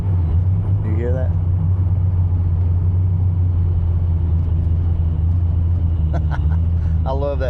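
A car engine rumbles in a steady, loud low drone near the microphone throughout, with the exhaust note carrying on as the throttle is released; people talk briefly over it at the start and end.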